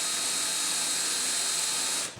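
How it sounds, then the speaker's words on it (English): A power drill boring half-inch dowel holes into wood during a kitchen island build runs as one steady, loud whine, then winds down and stops near the end. "I'm going to drill 1/2-inch holes because that's the size dowel and dowel centers that I have"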